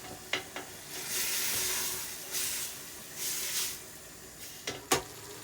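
Lamb and beef mince with onions sizzles in a hot pan, bursts of hissing swelling and fading as the meat is turned and scraped, with a few sharp clinks from a utensil against the pan.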